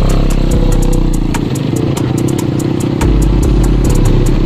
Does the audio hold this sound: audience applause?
no